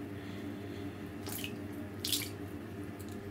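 Water runs steadily from a tap into a bathtub while a pet rat swims, a constant close hiss with two brief louder splashes partway through.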